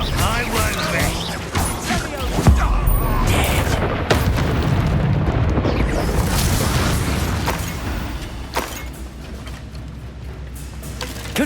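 Confringo blasting spell explosions in Hogwarts Legacy, a loud sustained booming roar with bursts and crashes layered over continuous game combat noise, fading slightly toward the end.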